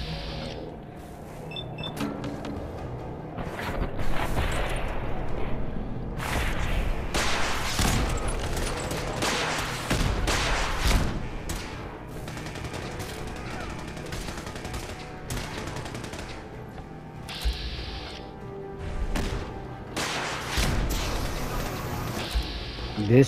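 Rocket launcher explosions and heavy gunfire from Fallout 4 in Survival Mode, with repeated loud booming blasts and rapid shots running continuously across the fight, with speech mixed in.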